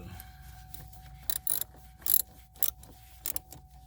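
A ratchet turns an 8mm socket on a car battery post terminal, giving several short bursts of quick clicking with pauses between them, close and fairly quiet.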